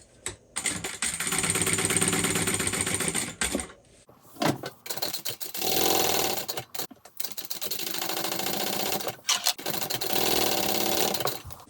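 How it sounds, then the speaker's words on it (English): A sewing machine top stitches 1/8 inch from each side of a Mr Heckles handbag piece, running in several loud, close bursts separated by short pauses, with no talk. "So I'm top stitching 1/8 of an inch from each side."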